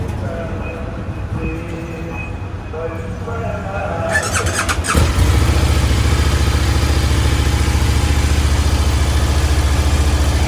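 A KTM Super Duke V-twin motorcycle engine fires up after a few seconds of background voices and settles into a loud, throbbing idle close by.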